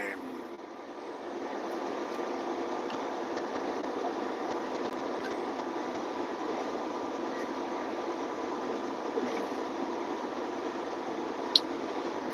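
Truck engine droning steadily while driving through Missouri, a muffled continuous hum heard from inside the cab, moderately quiet with a faint click near the end.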